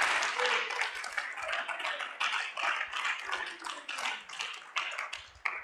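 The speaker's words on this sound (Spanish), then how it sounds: "Dele otro aplauso al Rey." A church congregation at a Friday evening service in Tiquizate breaks into sustained, dense applause for several seconds, with a voice briefly audible within it.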